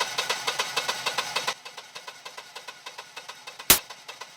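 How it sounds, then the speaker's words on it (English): A Generac generator engine idles nearby with an even rhythmic chugging pulse that softens partway through, and a single sharp knock or clank near the end. "The generator seems fine."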